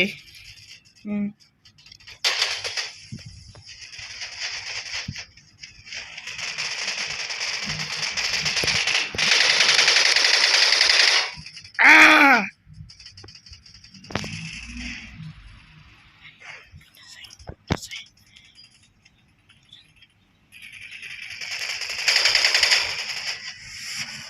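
Gunfire in an FPS video game played on a phone, including an SKS rifle, with rapid bursts and single shots at varying loudness across a long stretch, broken by pauses and other in-game clatter.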